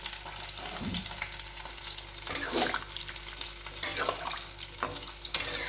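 Fish frying in a pan makes a dense, continuous sizzle with soft stirring noises, steady and close throughout.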